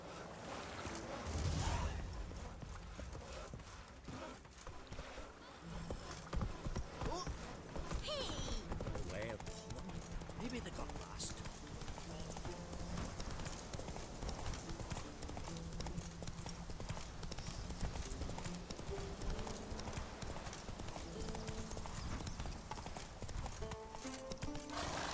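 Horse hooves clip-clopping steadily in the video game The Witcher 3, a continuous rhythmic trot with a brief whinny, heard under someone talking over game ambience.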